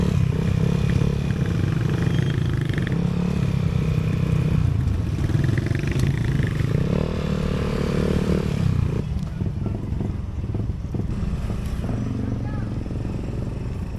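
Motorcycles ride close by on a country road trip, their engines droning steadily with rumbling clatter over wind noise while voices talk faintly underneath.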